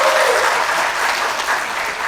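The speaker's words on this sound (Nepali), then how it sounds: "ताली बजाइदिने" A large audience claps hard and steadily in a dense, continuous wash of applause with no voices on top, at a public event where Nepali politician KP Oli speaks.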